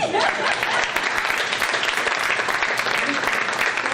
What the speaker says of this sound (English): my father, Charles, clap for him.